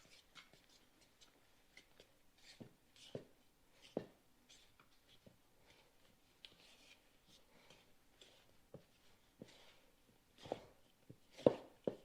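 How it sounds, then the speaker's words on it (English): A dough whisk works thick potato bread dough with faint, irregular clicks and soft thuds against the bowl. Brief louder knocks stand out toward the end, and no voices are heard. "I'm going to mix this all together with my handy dandy dough whisk"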